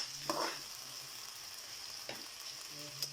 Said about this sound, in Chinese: 炒一炒，你给它倒点酱油里头